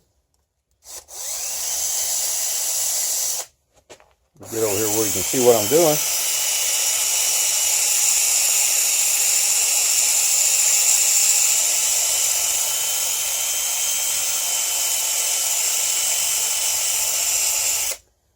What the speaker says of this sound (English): Take my power sander here, 12 volt Bosch drill.